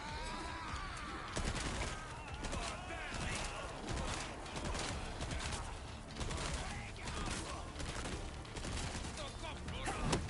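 Rapid gunfire from Resident Evil 4 Separate Ways, repeated sharp shots in quick bursts over game background noise, with a voice talking across the action.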